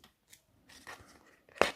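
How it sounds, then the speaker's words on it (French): Recycled envelope paper being punched through, a few quiet snips and crunches close up ending in one sharper cut, with no voices. "Maintenant, je vais faire les trous."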